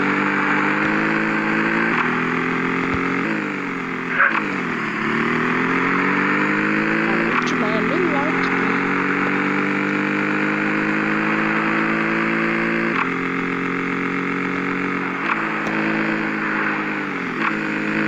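A motorcycle engine runs close and loud for the whole stretch, holding a steady drone with a few brief dips and rises in revs.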